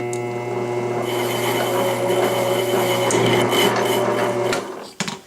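Metal lathe cutting metric threads in a shop, a steady loud motor hum with rasping cutting noise running continuously, then cutting off abruptly near the end with a couple of brief clunks.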